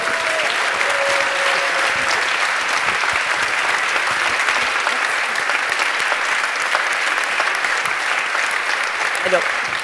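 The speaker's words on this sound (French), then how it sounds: "je vous demande un tonnerre d'applaudissements" A room full of people giving Dr Odile Corman a sustained, loud round of applause, dense clapping that keeps on steadily for about ten seconds.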